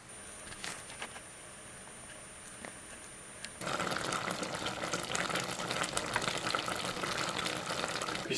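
Apples simmering in sugar syrup for caramelized apples give off a steady bubbling hiss, quiet at first and then louder and denser after a few seconds, with small pops throughout.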